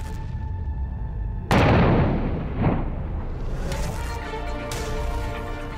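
Controlled detonation of old ammunition during military disposal: one sudden loud blast with a long rumbling roll that fades over several seconds, heard from a distance and with no talk.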